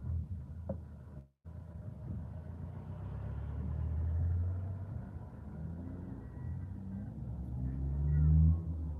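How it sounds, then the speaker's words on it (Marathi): Road traffic heading toward Adamapur rumbles past as a continuous low engine drone, with cars and engines passing at moderate distance, swelling and easing and never fully stopping. "बघा सगळ्या गाड्या आदमापूरला चाललेल्या आहेत"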